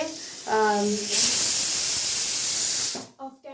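A pressure cooker holding eggs vents a loud, close hiss of steam lasting about two seconds, bracketed by brief talking before and after.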